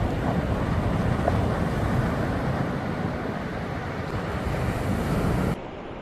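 Continuous roar of ocean surf breaking on a beach with steady wind buffeting the microphone, loud and dense throughout, easing slightly near the end.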